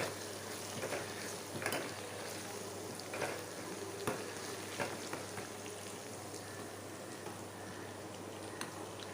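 Ginger garlic paste frying in hot oil for a dal-based sambar, a steady dense sizzle and crackle throughout, with a few light stirring scrapes and no voices.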